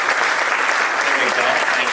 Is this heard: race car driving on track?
no